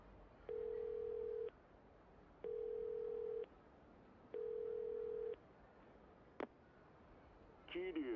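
A telephone rings in the Yakuza 0 video game, three long even electronic rings spaced about a second apart over a quiet background, followed by a brief click and a short burst of other sound at the end.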